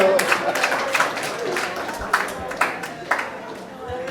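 An audience at a mental health resource donation event in Sierra Leone breaks into scattered clapping for a man, uneven claps rising and fading under talk from nearby voices.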